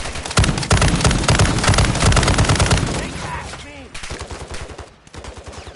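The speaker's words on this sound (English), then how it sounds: "Enemy contact! We're pinned down by heavy fire." Heavy sustained gunfire in Warzone 2 DMZ, a loud dense barrage of rapid shots for about three seconds, then sparser bursts with a brief gap, with voices talking over parts of it.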